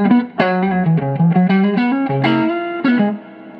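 A distorted electric guitar, a 1962 Fender Stratocaster through a tube amplifier, plays a steady run of sustained notes with a warm, amplified tone and a touch of effects, no voices.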